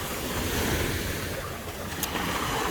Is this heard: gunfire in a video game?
no